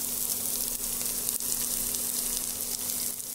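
Chopped onion fries in hot oil with a bay leaf for an Odia coconut vada curry, giving a steady, close, unbroken sizzle throughout with no talk.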